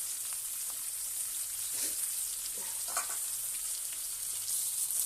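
Katla fish frying in hot oil in a pan gives a steady, close sizzle with crackling spatters, heard alone without talk.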